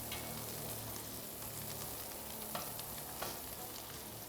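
Steady, loud sizzle of dhania (coriander) stalks frying in a pan with onions for fried liver, a dense continuous hiss with a couple of faint stirring knocks and no talk.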